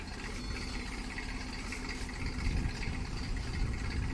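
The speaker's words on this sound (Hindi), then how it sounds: "ये मेसी ट्रैक्टर 87 मॉडल" A Massey tractor, 87 model, idles on a Rajasthan farm with a nine-row seed drill attached, giving a steady low engine rumble and vibration throughout, slightly louder toward the end, with no talking.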